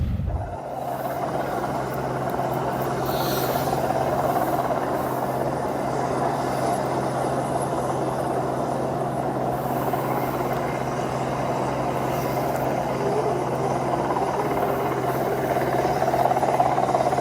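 A military helicopter lifts off after rescuing a wounded soldier, its engine and rotor giving a loud, sustained drone with a steady low rumble that holds throughout without pause.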